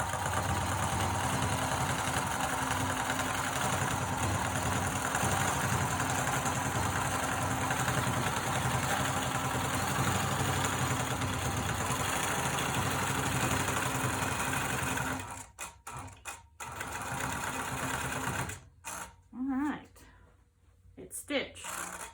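A long arm quilting machine stitching through quilt layers, a steady rapid mechanical hum for about fifteen seconds, then stopping and restarting in short bursts while a person talks.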